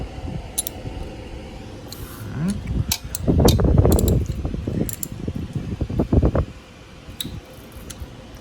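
Valve adjusters being loosened on a Kawasaki 454 LTD motorcycle engine: close metallic clicks, scrapes and ratcheting taps, building to a cluster of rapid tool sounds in the middle before tapering off, over a faint background hum.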